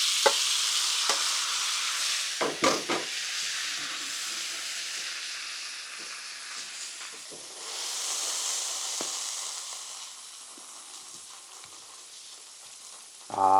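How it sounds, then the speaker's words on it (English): Loaded hashbrowns warm on a griddle with a steady hissing sizzle, broken by a few sharp scraping clicks from stirring and a louder burst of frying near the end. "I'm going to put these back down on the griddle just to warm them back up"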